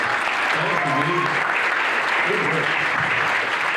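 Sustained audience applause for a student vocal jazz group at a jazz festival, a dense steady wash of clapping filling the whole clip, with a speaking voice heard over it.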